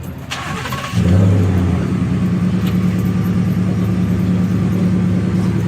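A Roush truck at the Truck Nationals in Carlisle, Pennsylvania cranks and fires up about a second in, then settles into a loud, steady, deep rumbling idle close by.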